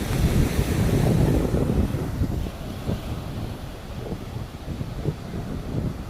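Ocean surf at Kozhikode beach in Kerala, India, a continuous roar of breaking waves mixed with strong wind buffeting the microphone, loudest at the start and then settling into a steady rushing wash.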